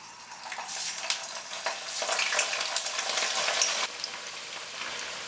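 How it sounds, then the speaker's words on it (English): Paneer cubes deep frying in hot oil, a loud, dense crackling sizzle that swells and steadies throughout, with occasional sharper pops and no talk. "Let's start with deep frying the paneer."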